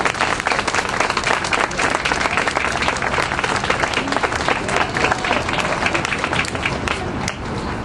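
Crowd applause rings out at the outdoor opening of Boston Public Market on the Greenway near South Station, steady dense clapping sustained throughout, loud and close.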